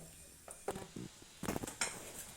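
A spoon scraping and clinking in a pan as grated coconut is stirred into an anne soppu leaf stir-fry, a few quiet irregular scrapes and taps close by.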